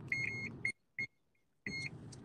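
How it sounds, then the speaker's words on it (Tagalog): A phone gives off repeated high electronic beeps in short bursts over a low background hum, with a pause before another run of beeps, easily mistaken for a smoke alarm. "Yung may nagpipipi."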